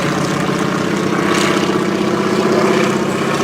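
PZL-101A Gawron propeller plane flying slowly on flaps at minimum speed, a steady droning engine hum with airscrew buzz holding even for a few seconds, moderately distant, no talk.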